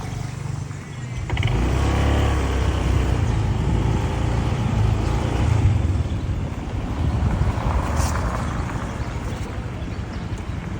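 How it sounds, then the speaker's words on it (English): A Lamborghini Aventador SVJ supercar's engine roars nearby, a loud, sustained rumble building after a quieter start and holding steady, with some wind buffeting on the microphone. "Aventador SVJ, baby."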